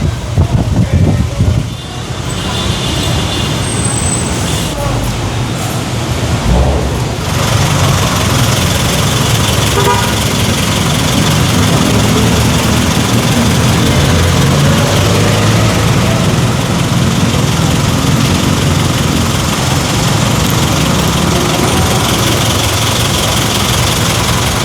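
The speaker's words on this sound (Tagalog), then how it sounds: "Ito naman yung tow truck na magkakarga na sa mga motorsiklo." A tow truck's engine idles with a heavy, steady low rumble before loading motorcycles, loud and close for the whole stretch, mixed with street noise and a voice talking over it.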